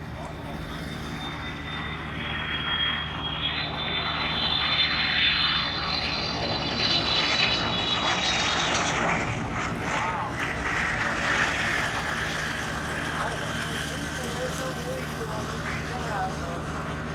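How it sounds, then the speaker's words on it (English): A Boeing 777 cargo airliner inbound from Taipei taxis on the ramp at Chicago O'Hare, its jet engines giving a steady loud roar with a rising whine, continuous and close. "Eva Air Cargo Flight 634. This 777 is inbound from Taipei."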